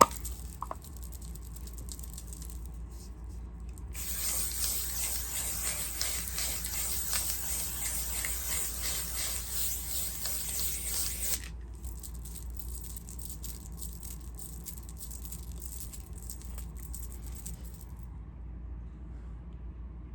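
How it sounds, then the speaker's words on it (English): A glitter setting spray from a Wicked musical makeup collaboration mists steadily in one long hissing burst of several seconds. The burst is close and soft, rises out of faint room noise and then cuts off, with no talking. "Finally, I will be taking the Wicked the Musical and One Size collaboration Glinda Popular Glitter Setting Spray."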